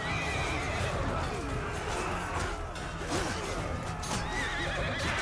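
Horses neigh and whinny in a Mount & Blade 2 battle, several calls overlapping amid constant dense clatter, hoof clip-clop and clashing noise, loud and continuous throughout.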